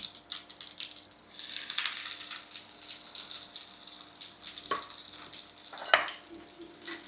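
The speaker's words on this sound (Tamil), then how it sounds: "அதை வெடிக்கணும் நம்ம அப்படி கடுகும் போட்டுடலாம்" Mustard seeds and onions fry in oil in a pan with uneven popping and hissing, fairly quiet, punctuated by a couple of sharper clatters.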